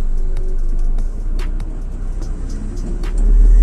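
A car driven by a learner in traffic pulls away as the clutch comes up, its engine a steady low drone that swells louder near the end. A few faint higher sounds rise over the motor, and no one talks.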